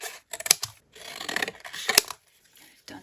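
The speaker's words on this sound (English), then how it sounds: "I'll just cut off these." Scissors snipping fabric scraps, a few short crisp cuts with rustling of cloth between them, close and quiet.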